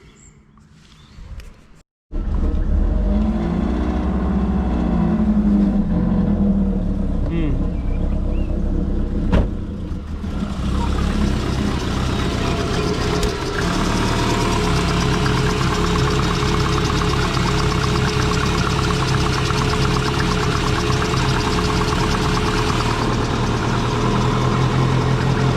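A twin-turbo Subaru Forester engine catches after a brief crank and settles into a loud, steady, slightly rough cold-start idle that carries on without any talking.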